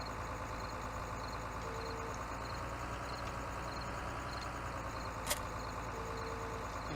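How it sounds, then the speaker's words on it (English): Steady low engine drone of a tractor idling in a farming video game, a constant mechanical hum with a faint metallic tick partway through and no talk. "this is a much nicer tractor."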